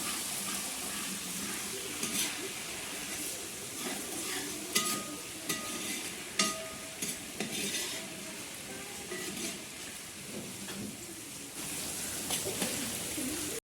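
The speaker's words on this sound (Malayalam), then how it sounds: "അപ്പൊ നമ്മളെ ഉള്ളി വെന്ത് വരുന്നുണ്ട്, മുരിഞ്ഞ് വരുന്നുണ്ട് കേട്ടോ." Sliced onions and curry leaves sizzle steadily in a pan during preparation of a beef roast, a continuous close frying hiss punctuated by stirring scrapes.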